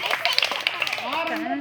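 A few sharp hand claps in a counting game during a workshop ring out in quick succession while people talk over them.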